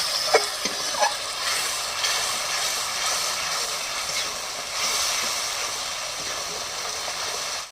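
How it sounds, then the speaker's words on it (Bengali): Chilli and cumin powder sizzle steadily in a pan as the spices are stirred, a continuous frying hiss with a few soft scraping knocks near the start, fairly close and with no talk. "এবার নেড়ে দেবো"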